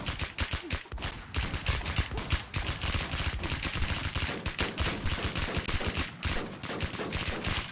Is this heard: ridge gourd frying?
no